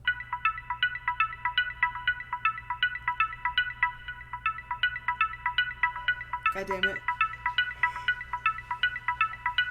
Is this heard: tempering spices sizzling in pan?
no